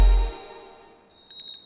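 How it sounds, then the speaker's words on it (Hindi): A small prayer bell rings once in a dubbed Hindi movie scene, its clear metallic tone fading slowly, followed by a few lighter tinkling strikes near the end. "फोन पे बात करते समय घंटी बजा रहे हैं?"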